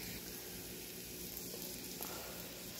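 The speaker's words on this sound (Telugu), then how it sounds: "ఆ మసాలా వేసాక ఈ విధంగా ఫ్రై అయ్యింది చూడండి, బాగా అయింది." Masala sizzling and frying in a pan while cooking a bean and tomato curry, a steady soft hiss with faint crackle throughout, no voices over it.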